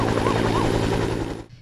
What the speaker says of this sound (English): Battling the blaze from above, the aerial attack continued for a second day as bombers targeted smouldering land.